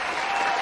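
Sustained applause from a crowd, dense and steady clapping filling the whole short moment without letup.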